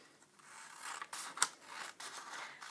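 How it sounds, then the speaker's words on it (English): Scissors snip through paper in a few short, close, crisp cuts, with a sharp click in the middle and quiet pauses between strokes. "I just drew some triangles that I can then cut out with my scissors"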